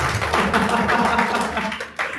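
Church congregation clapping together during a sermon, a dense continuous burst of many hands fairly close, with some voices mixed in.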